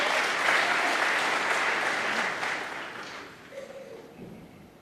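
A 2,000-strong snooker crowd applauds at Alexandra Palace during the Masters final: dense, loud clapping that holds for several seconds and then thins and fades away.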